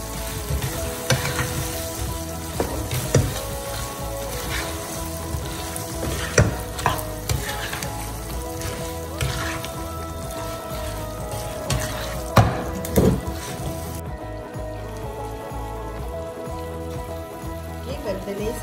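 Pieces of fish for sweet and sour fish frying in a pan, a steady crackling sizzle with scattered pops and stirring scrapes running throughout, close and fairly loud.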